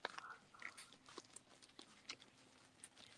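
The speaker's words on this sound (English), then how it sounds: "Somebody chewing some potato chips?" Someone chews potato chips, producing faint, irregular crisp crunches and bites in quick succession, quiet and close, with no talking.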